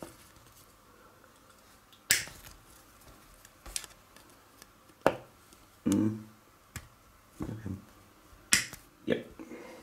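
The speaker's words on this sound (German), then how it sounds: "Wieder schön abknipsen." Flush cutters snip plastic parts of a Millennium Falcon model kit off the sprue, giving a series of sharp, close clicks spaced irregularly over quiet room tone.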